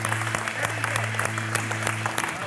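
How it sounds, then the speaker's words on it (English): Crowd applauding the unveiling of a 1971 Plymouth Cuda, lively scattered clapping with sharp individual claps close by over a steady low hum. "Yeah, we got a lot of applause."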